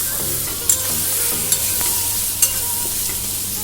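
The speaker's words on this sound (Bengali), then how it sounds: "এবার দিয়ে দেবো কেটে রাখা পেঁয়াজ কুচি আর একটা আস্ত পেঁয়াজ। একেবারে আমি হালকা করে ভেজে নেব।" Chopped onion and a whole onion fry lightly in oil while being stirred, a close, loud steady sizzle broken by three sharp spoon knocks against the pan.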